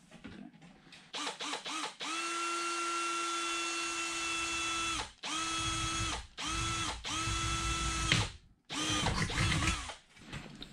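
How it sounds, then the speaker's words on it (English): A power drill whirs in several sustained bursts drilling a hole in a wood stove pipe, steady high-pitched whine with brief stops and restarts, close and loud, no talking. "Just drill a hole on either side of this pipe."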